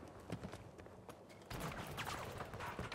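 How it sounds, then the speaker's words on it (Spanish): Gunfire in the shooter game Battlefield 2042, a dense crackle of shots and impacts that grows louder and busier halfway through, heard amid game noise. "Escucho disparos"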